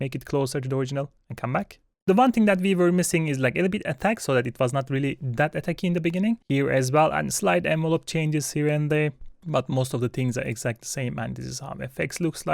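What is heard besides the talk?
No distinct noise like a dog, phone or traffic.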